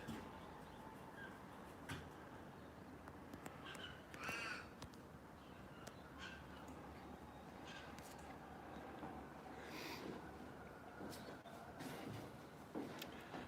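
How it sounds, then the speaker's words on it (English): A crow caws several times over a morning outdoor backdrop, the calls moderately distant and spaced irregularly above a steady low ambient hum. "And there's another crow, little bugger."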